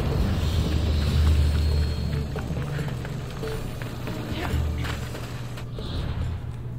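Horse galloping in Assassin's Creed Odyssey, a steady run of hoofbeats with a clip-clop rhythm over a continuous low rumble. It stays at a fairly even loudness the whole way through, with no talk.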